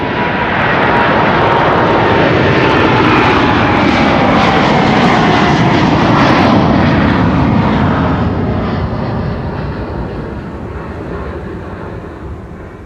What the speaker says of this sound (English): This is KLM flight 691 to Toronto,